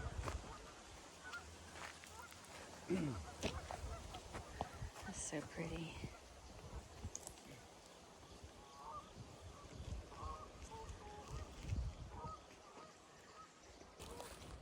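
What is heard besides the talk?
geese honking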